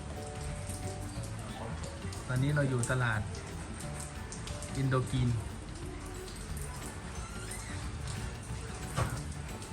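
Steady rain patters on a surface throughout beside the Mekong River while a person talks over it.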